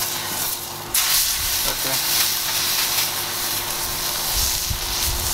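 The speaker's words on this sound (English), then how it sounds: "it's time to sear the steak" A wagyu steak hits a hot pan and sets off a loud, sudden hiss that settles into a dense, continuous sizzle up close, with one brief spoken word near the start.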